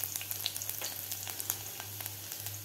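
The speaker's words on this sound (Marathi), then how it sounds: "आणि लसूण आपल्याला हे परतून घ्यायचं आहे" Chopped garlic sautéing in a little oil in a kadhai over high heat, a quiet, steady crackling sizzle with faint scattered pops and a low hum underneath.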